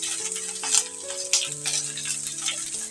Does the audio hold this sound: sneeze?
no